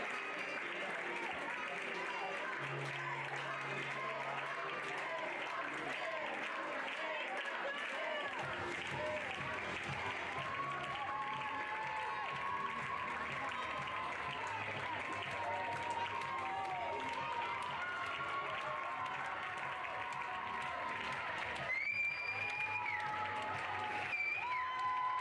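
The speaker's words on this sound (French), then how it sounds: "je vais vous demander de les applaudir bien fort" Sustained applause from a large crowd at a dressage prize-giving ceremony, steady and dense throughout, with a loud voice speaking over it and some music underneath.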